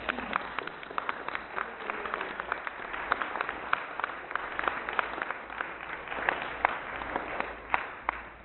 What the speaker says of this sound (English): please give those Citizens Climate Lobby folks another round of applause